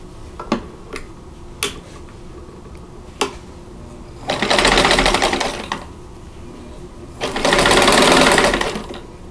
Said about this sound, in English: So I'm going to go ahead and sew these together.